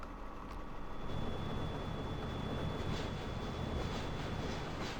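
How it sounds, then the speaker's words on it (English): A train passes in the video game Farming Simulator 2013 as a steady, broad rumble that swells slightly over a few seconds, with a thin high whine held above it and no talk. "Oh, train's coming, of course."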